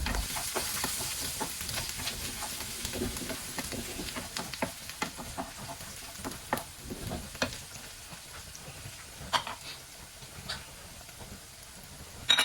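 Garlic frying in hot oil in a pan gives a continuous, close crackling sizzle, scattered with sharp pops and spatters and a soft steady hiss underneath.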